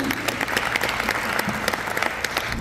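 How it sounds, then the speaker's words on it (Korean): Audience applause at a church mission seminar in Los Angeles welcomes a foundation chairman to the stage, a dense, steady patter of many hands clapping close by throughout. "박수로 맞이해 주시기 바랍니다"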